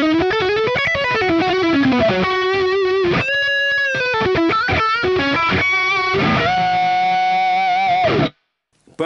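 An electric guitar plays a lead line through a Fractal unit with a distorted lead tone: fast bends, slides and sustained notes, loud and upfront, ending in a sudden cut.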